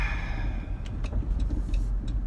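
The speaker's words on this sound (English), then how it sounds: "of course cars are driving by, so you couldn't really hear the sounds of nature" Cars pass on a nearby road outdoors, a low, steady rumble of traffic with a few faint higher swishes and ticks, no voices.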